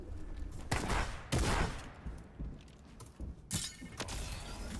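Video game gunfire from a team match rattles in several loud bursts separated by quieter stretches, with sharp crackling shots and no talking in between.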